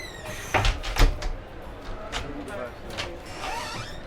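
A wardrobe door in an Itineo motorhome at the NEC show knocks and thumps as it opens and closes, a couple of close clunks and sliding rattles while someone talks.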